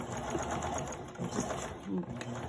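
Sewing machine stitching ruffles for journal pages, giving a steady mechanical whir with a faint high whine as someone talks over it.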